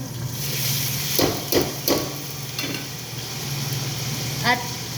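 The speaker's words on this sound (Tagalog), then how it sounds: "So, guys, halo na natin." Chicken simmering in a pot with bay leaves, long green chili and dried lemon is stirred, a spoon knocking the pot a few times in quick clinks over a steady sizzling bubble.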